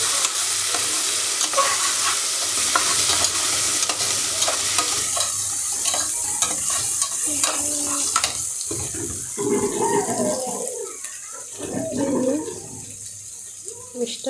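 Chicken curry being stirred in a pan, a continuous sizzling fry with scraping stir strokes and running tap water nearby, busy and close, with some voice in the background.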